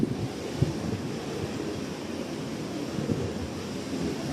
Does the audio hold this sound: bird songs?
no